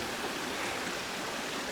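The Crocodile River in Gauteng, South Africa, running as a small stream near its source where it joins the main river, giving a soft, even rushing of water with no break or voices.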